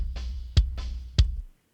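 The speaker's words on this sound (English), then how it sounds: "So right now this kick drum sounds like this." Kick drum recorded before noise gating, hitting twice with heavy low thumps spaced about half a second apart, with a steady hiss and ringing bleed between the hits, then cutting off.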